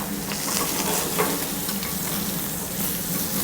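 Shrimp sautéing in a hot pan alongside a potato bacon hash, giving a steady, close sizzle with faint stirring clicks throughout and no talking.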